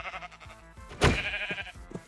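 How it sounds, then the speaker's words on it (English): Sheep bleat in the video game Minecraft, a couple of short nasal bleats close up, with a brief thump of game sound in the middle and no talk over them. "let's kill these sheep because I want a bed"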